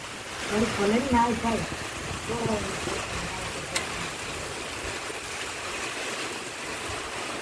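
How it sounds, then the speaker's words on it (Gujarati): A heavy monsoon downpour, the season's first, pours on farmland with wind, making a dense, steady roar of rain. A voice murmurs faintly near the start. "ધોધમાર ધોધમાર મિત્રો વરસાદ પડે"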